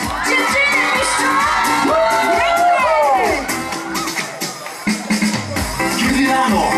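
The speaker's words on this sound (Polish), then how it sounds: "Dziewczyny piszczą!" High-pitched squealing and cheering from a crowd of girls at an outdoor disco polo and dance festival in Głogowo, loud and sustained over amplified music and a shouting voice.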